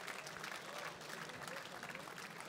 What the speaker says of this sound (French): Donc on l'applaudit doublement plus fort.